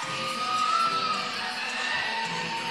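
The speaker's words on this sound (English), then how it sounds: "We got the crowd fired up now." Crowd at a college gymnastics meet between Northern Illinois and Central Michigan cheering and shouting in a big, sustained roar, with high whoops rising over the mass of voices.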